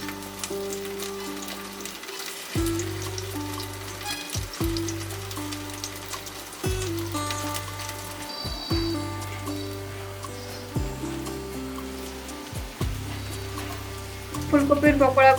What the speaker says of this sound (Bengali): এইভাবে উল্টে পাল্টে লালচে কালার করে ভেজে নিতে হবে।